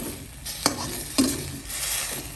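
Steady sizzling and hissing as fish sauce hits the side of a hot wok while stir-frying cabbage, with a few sharp scraping clicks of a utensil stirring, close up and with no talking.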